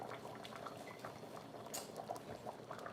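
Liquid pours into a pot of Zuppa Toscana soup in a home kitchen, a steady soft bubbling, splashing gurgle throughout, quiet and with no talking.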